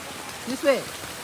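Steady rain patters onto a street in the Tamil quarter of Kasi, a soft continuous hiss under a man's brief spoken words nearby.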